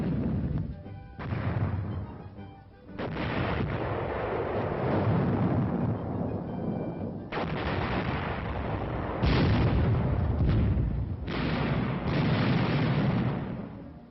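Artillery fire during military training at Camp Fuji, Japan: a series of heavy booms and sustained rumbling blasts rolling over one another, loud and dense, with brief lulls between volleys, heard from a distance.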